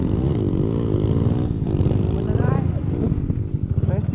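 Supermoto-class bore-up CFR motorcycles race on the flat track at the Citayem circuit, and their engines drone loudly and steadily with rising and falling revs. Voices talk over the engine noise throughout.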